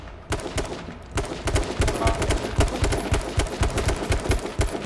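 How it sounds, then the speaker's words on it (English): Several players in a shooter exchange fire, with rapid, uneven bursts of close gunshots cracking over a low engine-like rumble, loud and dense throughout. "I think they're shooting at us."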